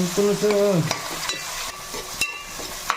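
Large fish pieces fry in a pan with a bright, close sizzle, broken by a few sharp clatters of a spatula stirring, and no voices present.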